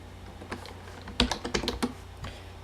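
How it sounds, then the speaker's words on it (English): Typing on a built-in laptop keyboard, a loose run of sharp key clicks that bunches into a quick flurry in the middle and then trails off into a few scattered taps, close and alone. "That's my onboard keyboard."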